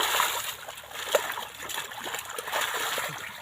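Steady splashing and sloshing of water from someone swimming in a river by a field, with continuous moderate churning and occasional louder splashes over a few seconds.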